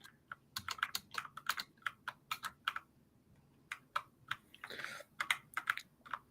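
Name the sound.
typing on a computer keyboard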